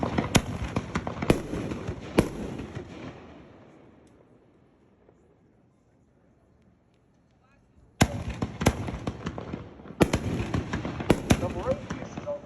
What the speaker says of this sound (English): This is our Realtree 5-inch Wildcat cartridge.